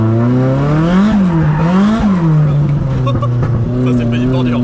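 A 500-horsepower Nissan S14 prepared for drifting revs loudly and close by, its engine note rising and falling in sweeping blips, with a voice speaking over it.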